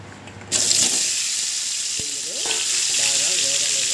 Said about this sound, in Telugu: ఇదే పాండల్లో కొంచెం ఆయిల్ వేసుకోండి ఇప్పుడు ఈ విధంగా కట్ చేసుకున్న టమోటాలని